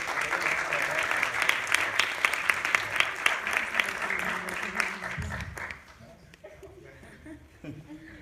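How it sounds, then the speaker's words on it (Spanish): An audience at a transparency and anticorruption debate claps loudly and steadily for several seconds, then the applause dies away into a quiet room where a few faint sounds remain. "recibamos con un fuerte aplauso a nuestros 3 participantes en esta mesa"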